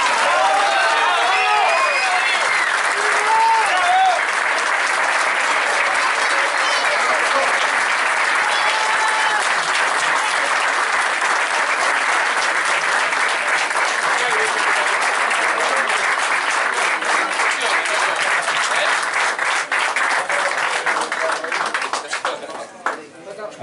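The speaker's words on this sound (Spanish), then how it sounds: "Un fuerte aplauso para Rodrigo da Costa." A large audience at a Bocuse d'Or 2015 culinary event claps steadily for over twenty seconds. The applause is loud, dense and even, with a faint cheer early on, and it fades out at the end.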